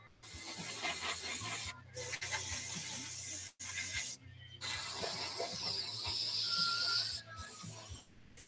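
Airbrush spraying black paint over a Death Guard miniature, a steady close hiss broken by several brief pauses as the trigger is released and pressed again.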